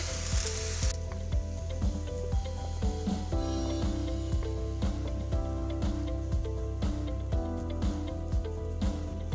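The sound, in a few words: shrimp fried rice being mixed in a hot pan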